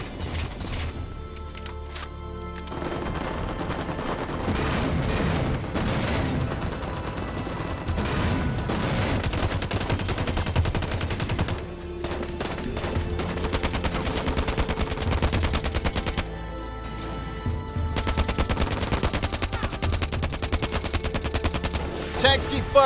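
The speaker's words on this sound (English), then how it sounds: "Tanks keep firing." Sustained gunfire and heavy tank cannon fire in Halo 5: Guardians battle, loud and dense with bursts of rapid shots and deep booms layered together, continuing without pause throughout.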